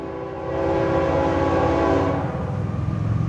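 CSX freight train passing close by, a loud sustained horn blast over the rumble of the rolling cars, with no talk.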